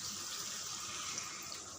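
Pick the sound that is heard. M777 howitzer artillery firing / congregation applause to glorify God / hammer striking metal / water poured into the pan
water poured into the pan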